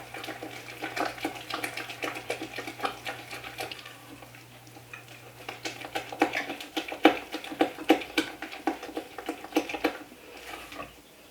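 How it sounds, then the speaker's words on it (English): Corn cake batter being mixed in a pot, a close, quick clatter of a utensil scraping and knocking against the pot in uneven rhythmic bursts, growing brisker toward the end. "And then just get in here and mix this together."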